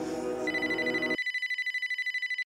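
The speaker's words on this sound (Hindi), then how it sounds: "किसका फोन बज रहा है?" Telephone ringing on a film set, a repeated electronic ring pulsing in quick even bursts, loud and close, cutting in after a moment of other sound.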